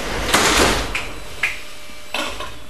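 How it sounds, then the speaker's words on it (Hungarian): Sliding doors on an Ev3 metro train heading to Kőbánya-Kispest close: a loud rushing whoosh, then several sharper thuds and clunks close by, over constant train rumble. "Kérem, vigyázzanak, az ajtók záródnak."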